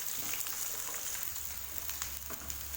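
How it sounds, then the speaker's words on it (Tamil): Chopped onions frying in hot oil with whole spices for a chicken gravy, giving a steady, close sizzle that crackles evenly throughout with a low hum beneath and no talking. "இப்போ இதில் நம்ம கட் பண்ணி வச்சுக்கிற ஒரு கப் வெங்காயத்தை இதை சேர்த்துக்கலாம். வெங்காயம் நல்லா வதங்கணும்"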